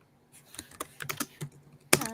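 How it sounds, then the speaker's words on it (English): Computer keyboard being typed on in short irregular bursts of crisp clicks, close and quiet, ending with a sharper louder keystroke. "And Lisa, I'm going to mute you because I can hear you typing."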